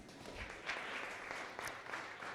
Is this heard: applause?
yes